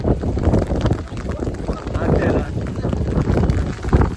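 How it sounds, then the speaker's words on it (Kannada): Strong gusts of wind buffet the microphone with a steady rush of heavy rain at Ranijhari, the roar staying loud and unbroken throughout. "ಫುಲ್ ಮಳೆ ಗಾಳಿ ನನ್ನ ಕೊಡೆ ಹೋಯ್ತು"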